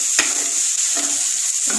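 Grated coconut frying in a pan makes a steady close hiss, broken by a few sharp scraping strokes of a spoon against the metal.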